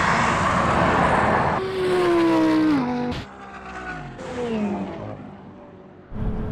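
Ferrari and Aston Martin sports cars racing hard, loud engine notes rising and falling through gear changes with a brief tire-squeal edge, one engine dropping away as another takes over close by.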